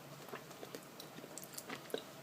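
Faint, close chewing of spaghetti during a taste test, with soft irregular bites and wet mouth sounds over a quiet background and no talk.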